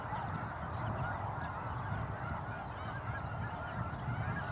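A large flock of migrating snow geese honks continuously, a dense, overlapping chorus of many birds calling at once, steady and loud throughout with no pauses.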